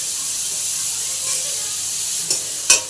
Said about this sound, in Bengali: এটা ভালো করে আমি কষিয়ে নিচ্ছি